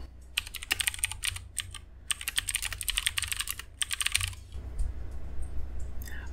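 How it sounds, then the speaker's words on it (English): Close typing on a computer keyboard, several bursts of rapid key clicks separated by short pauses, then quieting into faint room hum near the end; no talking. "I'll go ahead and type exactly that."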